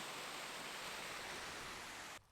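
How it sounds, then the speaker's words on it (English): A small waterfall on a forested hiking trail in Pennsylvania's Loyalsock area gives a steady, broad rushing roar of falling water that cuts off abruptly at the end. "We got a little waterfall right here."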